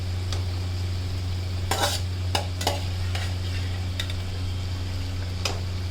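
Black-eyed peas are stirred into a simmering ridge gourd curry, a spoon scraping and clinking against the pot in irregular strokes over a steady low hum and gentle sizzle.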